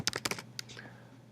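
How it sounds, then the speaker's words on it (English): Quick, light keystrokes on a computer keyboard, a short cluster of about seven taps that fades out, faint and close. "Type it exactly like this"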